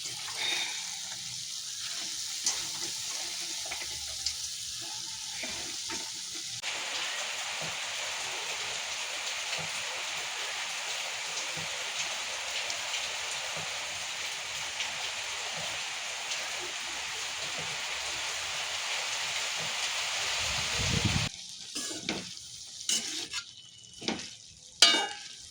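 Cabbage stir-fried in spice masala for a crab curry, a steady hissing sizzle that runs long and loud, with clattering stirs and scrapes breaking in near the end.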